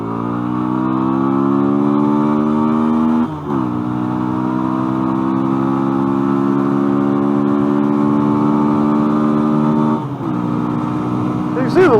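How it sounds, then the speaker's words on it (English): A 2013 Yamaha V Star 250 motorcycle, a small cruiser with under 500 miles, accelerates in a steady droning pull, its engine note climbing gradually with two short dips at gear shifts, heard close and clear. "Now we'll do a little acceleration run here."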